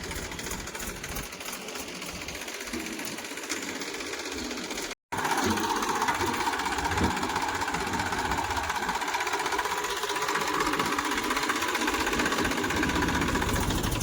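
A tractor stuck on a farm runs with a continuous, rough, throbbing engine drone that is loud and close, broken by a brief gap before resuming more strongly.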